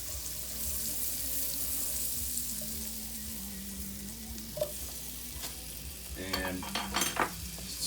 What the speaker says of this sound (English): every time I dump them in, I stir this up a little bit, even though it's on very low heat